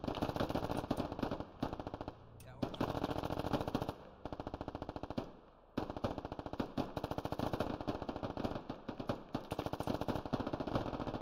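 Machine guns rattle in long rapid bursts in the tactical shooter Squad, loud and near, with short pauses between strings of fire.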